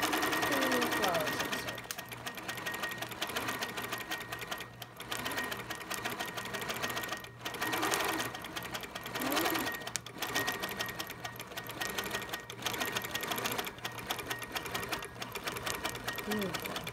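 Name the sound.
sewing machine quilting a little flower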